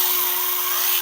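A drill spins a hole saw through a plastic armrest centerpiece on an 1989 Jeep XJ, a steady high-pitched whine that holds for about a second, then cuts off abruptly.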